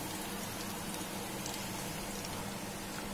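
Kothimbir vadi, Maharashtrian coriander fritters, fry in hot oil with a dense, even crackling sizzle, loud and close, steady throughout without speech.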